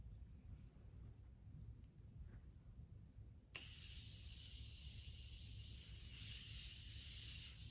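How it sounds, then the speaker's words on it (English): A single sudden, sustained hiss of a Morphe Continuous Setting Spray bottle spraying makeup setting spray, close and fairly loud, following a quiet background. "today I'm going to be going in with my Morphe Continuous Setting Spray"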